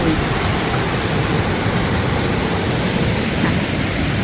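Steady rushing water from a stream beside a gravel campsite fills the scene, a continuous broadband flow like a small cascade, loud and unbroken throughout.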